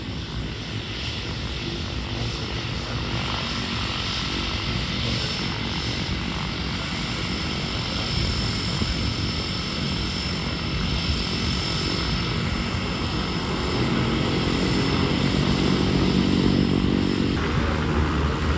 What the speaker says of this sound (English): here's a Beechcraft King Air that just arrived and is now that's now turning onto the taxiway